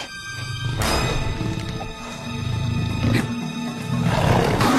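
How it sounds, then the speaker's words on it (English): A leopard in the animated Disney film Tarzan snarls and roars with cougar-like growls, loud and close, in repeated rasping bursts over a dense, rumbling soundtrack. "the movie itself features a leopard named Saber, who produces sounds more commonly used for cougars, or those called mountain lions."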